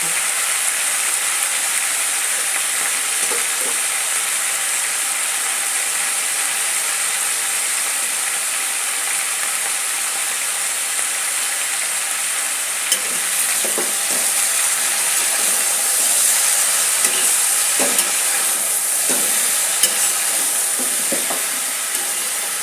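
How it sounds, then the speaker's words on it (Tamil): Steady sizzling of eggplant frying with turmeric in a hot pan, with occasional scrapes and stirring clatter, continuous and fairly loud throughout. "இப்போ நம்ம கொஞ்சம் மஞ்சள் தூளை சேர்த்துட்டு நல்லா வதக்கிறோம்"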